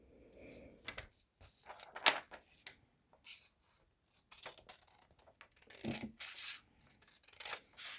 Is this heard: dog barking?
no